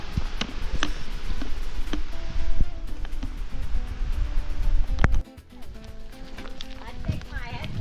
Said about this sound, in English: Listen to that water of the swartrivier running down here.